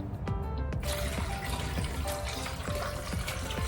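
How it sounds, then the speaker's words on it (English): Water poured into a blender holding mango, carrot and pineapple for fruit juice, a close continuous splashing trickle at steady loudness, alone without talk. "I'm gonna add my water."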